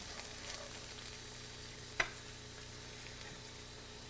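Potatoes simmer in a covered pan over a low flame, giving a steady, quiet sizzle and bubble with one brief sharp clink near the middle and no voices.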